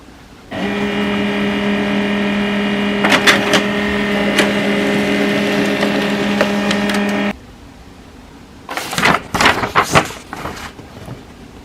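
An HP LaserJet MFP M141w laser printer runs a print job with a steady mechanical whir and hum for about seven seconds, then stops, followed by a few short clicks and clatters as it finishes.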